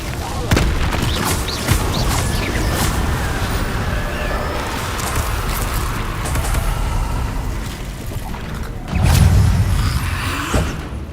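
Casting the Incendio fire spell in Hogwarts Legacy gives a sustained rushing roar of flame with rumbling booms, swelling into a louder blast near the end.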